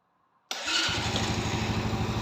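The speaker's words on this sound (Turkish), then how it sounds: "Motorumu çalıştırıyorum." A Kuba Easy Pro motorcycle engine catches abruptly after near silence and settles straight into a loud, even, rapid idle chug up close.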